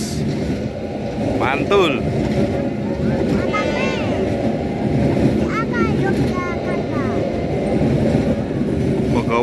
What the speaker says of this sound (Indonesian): Kereta api Bogowonto, teman-teman. Full stainless.